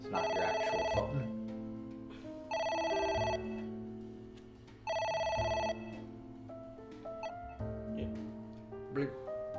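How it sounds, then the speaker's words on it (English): An in-game phone rings in AI: The Somnium Files, with repeated bursts of an electronic ring separated by pauses, under game music and occasional talk. "That's the phone in the game"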